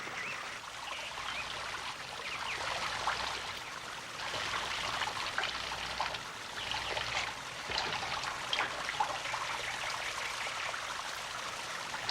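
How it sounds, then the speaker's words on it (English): Water trickles steadily out of small holes in a container, making a soft, continuous shower of fine splashing that stays even and close, with no voices. "then the water trickles out the little holes, making a small shower"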